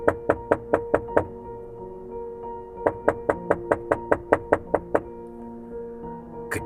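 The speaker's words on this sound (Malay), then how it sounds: "Kedengaran pintu biliknya diketuk seseorang." Knocking on a bedroom door as a story sound effect: two sets of steady, evenly spaced knocks, about six and then nine raps, close and clear in a quiet room.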